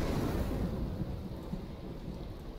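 Thunder rolls through a lightning storm in V Rising, a deep continuous rumble mixed with steady rain hiss, loud and enveloping throughout with no talking.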